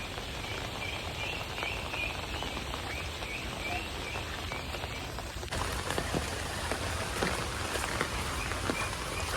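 Steady rain falls on a Bengali village, a dense hiss of drops pattering on surfaces that grows louder and closer partway through, with no voices.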